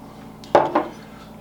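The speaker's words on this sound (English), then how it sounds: "And we're just going to whisk this together." A whisk knocks against a bowl while batter ingredients are mixed, giving two quick, close metallic clinks about a quarter second apart over a quiet room.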